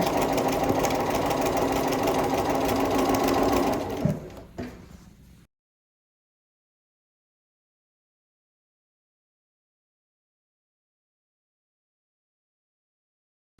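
Sewing machine stitching a quilt block, a close steady whirring run of rapid needle strokes for about four seconds that slows, gives a couple of clunks, and stops into silence.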